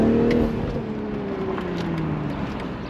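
BMW Z4 M40i with the B58 six-cylinder engine, a steady engine drone with gliding tones as the revs shift, carrying on loudly and continuously with no speech over it.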